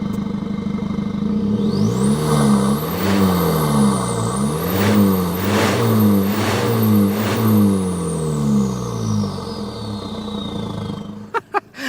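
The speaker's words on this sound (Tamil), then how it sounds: "அந்த ஸ்னார்க்கல்ல இருந்து அந்த ஏர் இன்டேக் போகிற சவுண்டு சூப்பராக இருக்கும்." A Force Gurkha's engine revs repeatedly while parked, with a rising whistle and rushing air intake sound through the snorkel, the pitch climbing and falling with each rev before settling.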